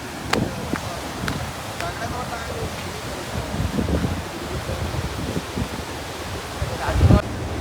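Wind and surf roll along a rocky seashore, a steady broadband wash with a few sharp knocks and a louder gust near the end, no talk over it.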